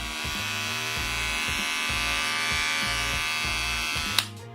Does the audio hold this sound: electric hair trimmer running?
yes